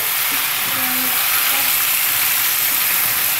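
Kakrol (spiny gourd) curry with turmeric and salt frying in a pan, a loud, dense, unbroken sizzle close up, with faint stirring underneath and no speech.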